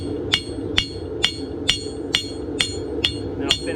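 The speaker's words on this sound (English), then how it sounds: "I'll finish it off with some flat blows to get the hammer marks out" A farrier's hammer delivers flat blows while shaping a horseshoe, smoothing out hammer marks: about eight sharp, ringing metallic strikes at an even, steady rhythm, close and distinct over a low background hum.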